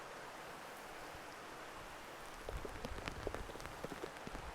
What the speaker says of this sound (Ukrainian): Так гарно чути, як шумить, да? Хай йде дощик.